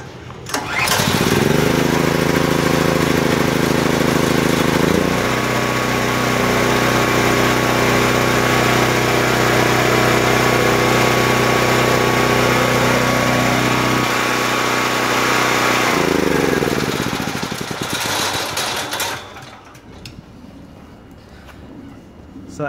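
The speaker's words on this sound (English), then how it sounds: "once the engine starts on any generator, once the choke position is turned to run, you're ready to go" A portable generator engine starts and settles into a loud, steady run with the choke set to run, droning continuously for about eighteen seconds before dropping away, with a few brief shifts in pitch along the way.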